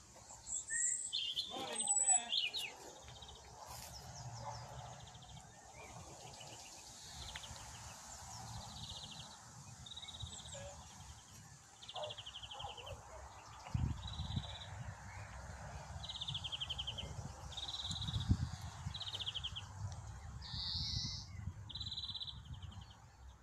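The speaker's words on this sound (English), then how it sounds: "You can hear the green finches, the blackbird." Greenfinches and a blackbird sing outdoors in a quiet garden, with repeated short high-pitched chirping phrases and a fuller melodic song, fairly distant, over faint background noise.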